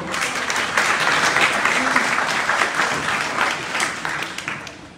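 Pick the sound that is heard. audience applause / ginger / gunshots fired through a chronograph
audience applause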